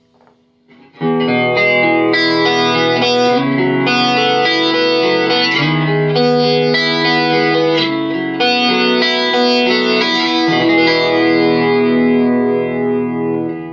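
Electric guitar played through a cheap $12 chorus modulation pedal set to a slow rate with depth at center, sustained chords shimmering with gentle warble, loud and close with no talking.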